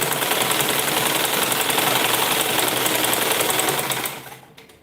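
A sewing machine runs steadily at close range as it stitches stretched ankara fabric, a dense continuous mechanical whir that carries on without a break and then fades out near the end, with no talking.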